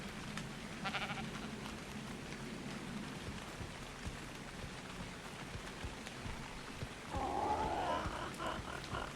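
Sheep in the video game Ark bleat once, a short wavering call near the end, over a steady rain-like hiss of game ambience with no talking.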